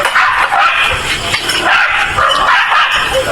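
Dog barking loudly and close in a repeated, agitated series, with whimpering yelps mixed in and background noise.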